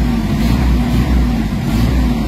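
A Mitsubishi Adventure engine idling low with a fault of weak pull and low RPM, a steady rumbling drone with slight swells as it is revved around 1,000 to 1,200 RPM, close and loud with no talk.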